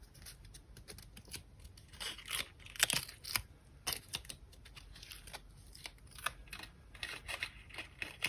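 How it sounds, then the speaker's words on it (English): Paper tabs on a small paper model chapel being folded down, a series of soft crisp creases and light taps spread irregularly, close and quiet, no talk. "Now we're folding down all of these tabs."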